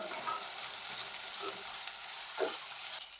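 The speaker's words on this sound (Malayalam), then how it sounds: "ഇത് പാതക്കയും ചക്കക്കുരു ഇട്ടിട്ട് കുറച്ച് ഇളക്കണം" Spiny gourd and jackfruit seeds fry in a pan while being stirred, a steady close sizzle with a few soft scraping stirs, fading slightly at the end.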